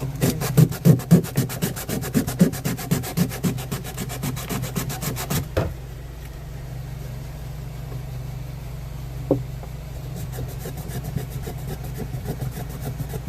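Rapid rhythmic rasping scrapes as the coils of a Magic Chef mini fridge ice chamber are sanded, close and steady for several seconds, then stopping with a thump, leaving a low hum and an occasional small knock.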